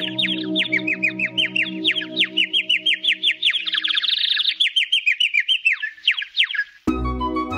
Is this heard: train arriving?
no